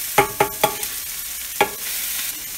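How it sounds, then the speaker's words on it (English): Onions and garlic fry in a cast iron skillet with a soft sizzle, while a utensil scrapes and taps the pan in a quick run of three strikes and then one more, close and clear with no voices. "The onions are turning translucent and the garlic's starting to burn"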